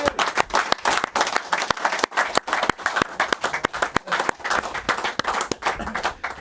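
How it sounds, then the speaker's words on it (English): Audience clapping after a golf pitch shot is scored on a TV golf challenge show, with sharp, distinct individual claps over a rippling round of applause, close and lively for the whole stretch. "Oh, give a round of applause."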